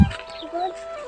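A caught rooster gives a short cluck close up, followed by brief faint chirpy calls.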